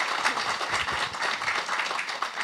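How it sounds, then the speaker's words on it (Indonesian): Clapping from the crowd at a large Islamic religious gathering (pengajian), a dense, lively burst of many hands that fills the whole short stretch at an even level, with murmuring voices mixed in. "Tepuk tangan tuh Mbak Flah"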